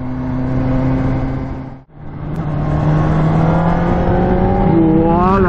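A loud, close motorcycle engine hums steadily, briefly cuts out, then revs back up with its pitch climbing as it accelerates hard.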